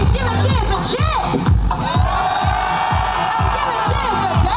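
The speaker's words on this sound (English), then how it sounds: "Okay, Disney Wish, give a cheer for Chip." A crowd aboard the Disney Wish cruise ship cheers and whoops loudly for Chip, with excited shouts over a pulsing beat of music.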